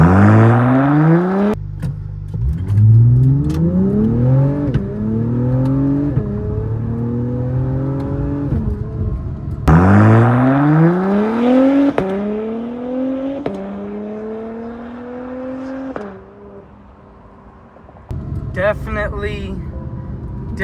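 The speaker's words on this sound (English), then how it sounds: "So let off the brake and just hit the gas." An Acura TLX Type S in Sport Plus mode, using paddle shifters and no launch control, accelerates hard from a standstill. The engine rises loudly and shifts up in steps twice, with brief talk between the runs.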